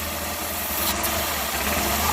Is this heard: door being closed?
no